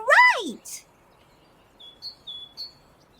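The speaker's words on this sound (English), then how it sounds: "The birds are singing, the sky is bright, the sun is shining." A bird gives a sweeping call followed by a few thin, high chirps, short and clear against a quiet background.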